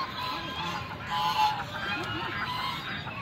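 Geese honking at Karachi Zoo, several repeated nasal honks scattered over a busy outdoor background, moderately close, with faint crowd murmur behind.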